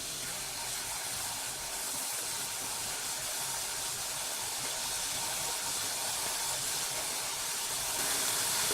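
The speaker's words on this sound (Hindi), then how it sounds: "तेल हमारा मीडियम फ्लेम पे गरम हो गया है। अब हम इसमें डालते जाएंगे 1 बाय 1 कट किए हुए नाचोस को।" Cut nachos frying in oil heated over a medium flame, a steady broad hiss of bubbling oil that swells slightly louder toward the end, with no talking.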